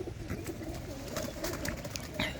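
Pigeons coo in a loft, soft repeated throaty calls overlapping against low background noise, close by.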